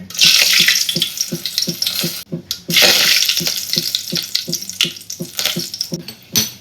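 Curry leaves hit very hot oil for a tempering, giving a loud, steady crackling sizzle with dense popping spits that briefly dips before surging again.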